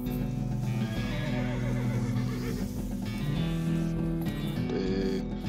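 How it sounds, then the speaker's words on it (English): A horse whinnies in the video game West of Loathing 2, a loud, drawn-out neigh with shaky rises and falls that carries over a steady game soundtrack. "the horse shies away from you"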